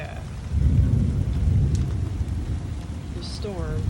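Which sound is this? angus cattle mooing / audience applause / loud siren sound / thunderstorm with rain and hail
thunderstorm with rain and hail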